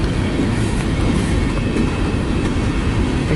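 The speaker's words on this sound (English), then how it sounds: "That's a long train." Long BNSF westbound freight train passing close in Fostoria, Ohio, a loud continuous roar of wheels and rolling cars with steady rail clatter, no voices.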